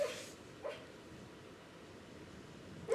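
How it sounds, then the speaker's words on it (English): A dreaming dog lets out soft, muffled woofs in her sleep: a few brief, faint bursts at the start, middle and end, with quiet room hush between them. "She's barking in her sleep."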